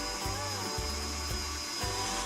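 An electric mixer beats melted butter and granulated sugar in a bowl. It makes a steady, continuous whir with slight rhythmic dips in tone, and no voices are heard.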